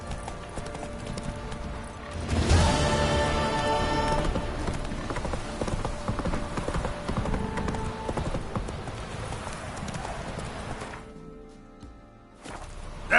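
The horse Roach gallops through The Witcher 3 with steady, rhythmic hoofbeats at close range. A loud neigh and a burst of movement sound near the start, and the drumming hooves carry on throughout until a brief lull near the end.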